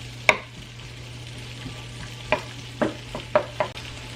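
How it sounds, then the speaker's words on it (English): Vegetables and thyme stirred in a pan with garlic, giving a handful of scattered scraping clicks over a faint low hum, fairly close and with no voices. "I'm gonna go on and add these veggies and the thyme. I'm just kind of stir that in here."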